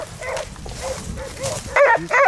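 Hunting dogs bark and yelp during a wild boar hunt, with several excited, overlapping barks growing louder and more insistent toward the end.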